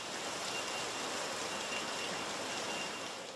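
Steady rain falls during an early-afternoon downpour under thick fog, a dense, even hiss of drops that holds loud and constant throughout with no voices.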